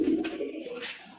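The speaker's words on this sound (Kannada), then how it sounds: "ಪಾರಿವಾಳ ಅಕ್ಕಿಗಳು ನೋಡಿ" Pigeons for sale, including brown racing birds, coo at a bird market in Holenarsipura, Hassan district, Karnataka. A single soft, throaty coo sounds close by and fades quickly.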